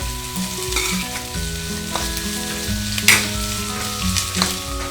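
Onion frying in a pan until reddish for a spicy chicken curry: a loud, steady sizzle with occasional stirring bursts, over background music and no voices.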